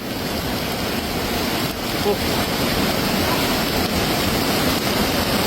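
A mountain flash flood rushes past as a loud, steady broadband roar of churning water that fills the whole scene without pause.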